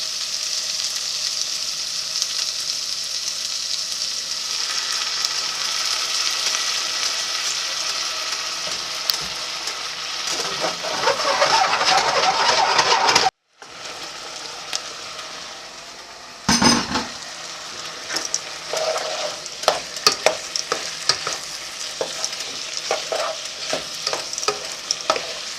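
A pan of pasta sauce sizzles steadily while being deglazed and stirred, with scraping and clinking from a utensil, a brief cut to silence partway, then frying and stirring resume close up.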